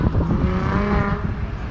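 A car with a cammed engine rumbles nearby with a choppy, uneven idle and revving, loud and rough for a brief moment with no talk.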